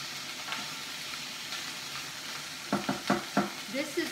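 Peppers sizzle softly in a pan while a spoon stirs them, quiet frying hiss underneath and a cluster of scraping, clattering stir strokes near the end.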